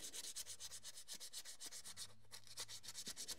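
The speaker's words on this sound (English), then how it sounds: "Probably should have went for a bit more coarser sandpaper, but I've sanded these lug ends on the end of the cables" Fine sandpaper rubs rapidly back and forth over the metal cable lug ends of a vintage crane truck, a quiet, steady, close scratching rhythm with no voices.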